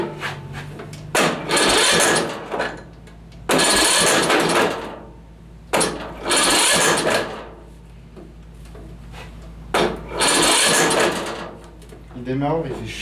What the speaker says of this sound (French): Putain, démarreur de merde. En fait c'est pas le bon, du coup il se bloque.